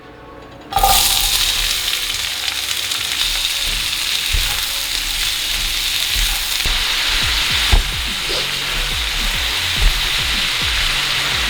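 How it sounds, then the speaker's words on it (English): Chopped onion and fennel dropped into a hot frying pan for vegan meatball subs, bursting into a loud, continuous sizzle with occasional crackles and stirring knocks, close up and with no voices. "I'm going to add in the onion."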